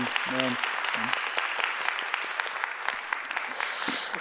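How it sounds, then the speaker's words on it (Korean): A church congregation applauds warmly to welcome and encourage four missionaries serving in Davao, Philippines, a steady wash of clapping with a few brief voices near the start. "우리 한번 뜨겁게 격려의 박수 드리겠습니다"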